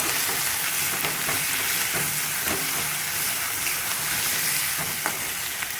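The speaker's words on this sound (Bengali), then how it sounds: "এই তাওয়াতে আমি করবো ফ্রাই, চিকেন ফ্রাই করবো।" Chicken leg pieces frying on a flat tawa, a steady dense sizzle with crackling spatters and occasional scraping taps, loud and close throughout with no talking.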